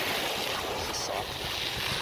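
Waves washing onto a Gulf beach shore at Lover's Key, Florida, a steady broad rushing surf with wind noise on the microphone.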